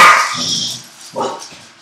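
Two loud, close dog barks, the first a sharp bark and the second after a short pause, with a faint yip trailing at the end in a home setting.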